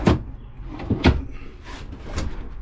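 Drawers below the sink in a Cruise America rental travel trailer are pulled open, giving a few quick wooden knocks and slides close to the microphone, with no talking.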